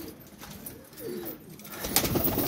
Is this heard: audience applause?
no